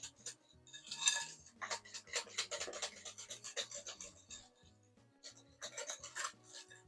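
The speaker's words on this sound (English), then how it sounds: "I want to make sure I get those eggs good and beat up in there" A utensil whisks eggs into a coconut custard pie filling in a bowl, with quick close scraping and rubbing strokes in bursts that pause briefly and resume, no talking.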